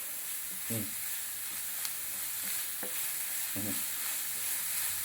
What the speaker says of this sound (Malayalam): നന്നായിട്ട് ചിക്കി കൊടുത്ത് അടി പിടിക്കരുത്